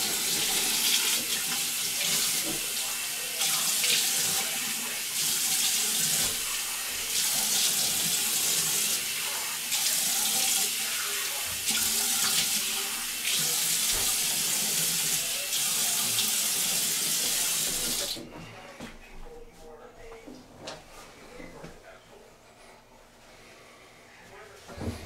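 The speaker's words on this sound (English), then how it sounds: "let me just rinse off real quick and we'll see how it looks" Water pours steadily from a tap into a sink as someone rinses their face after shaving, a loud continuous hiss that stops abruptly near the end, followed by quieter room noise and small handling sounds.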